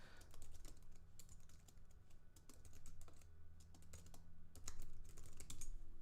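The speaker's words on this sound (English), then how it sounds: "So I'm just going to type in the chat too." Typing on a computer keyboard during a live stream, with rapid irregular key clicks in bursts over a low steady hum, close and moderately loud, no voices.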